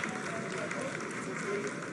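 A mission control room fills with steady, dense applause from many people, sustained and fairly loud throughout with voices mixed in.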